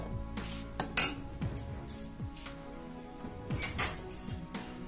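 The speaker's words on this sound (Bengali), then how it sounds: "চালটাকে আমি ভালো করে ধুয়ে নেব।" Khasa rice being washed in a bowl, with scattered clinks and knocks of a metal bowl and utensil, a few sharper clatters among soft swishing, close and moderately quiet.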